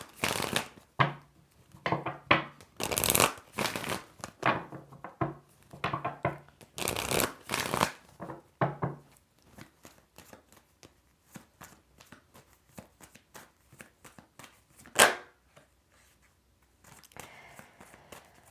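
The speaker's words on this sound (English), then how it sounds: "I like when the cards turn all the way around or hit the table." Tarot cards shuffled by hand and slapping onto a table, with crisp riffling bursts close up, then quieter scattered card taps and one sharp smack near the end.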